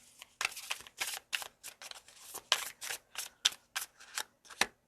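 Tarot cards are shuffled close by in repeated quick riffling bursts, about fifteen short crisp rustles in an uneven rhythm, fairly quiet with brief pauses between and no talking.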